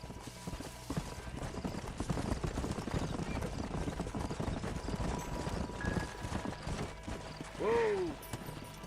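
Horse hooves clip-clop steadily on a dirt trail in the Red Dead Redemption video game, a continuous rhythmic gait with a horse's whinny near the end.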